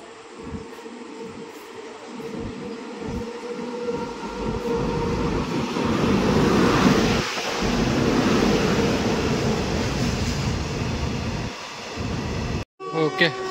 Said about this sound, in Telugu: ఓకే, ఫైనల్ ట్రైన్ అయితే వచ్చేసింది.